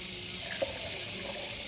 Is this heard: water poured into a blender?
yes